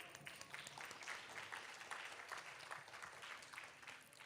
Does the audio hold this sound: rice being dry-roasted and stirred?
no